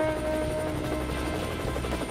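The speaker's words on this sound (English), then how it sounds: "Wait a minute, is that a helicopter?" A helicopter in a Roblox video game drones steadily and loudly close by, its rotor and engine whir constant throughout.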